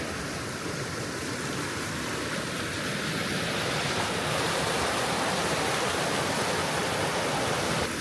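Steady river water rushing and splashing at Rancho Mastata in Costa Rica, a continuous broadband flow that stays loud and even throughout with no voices over it.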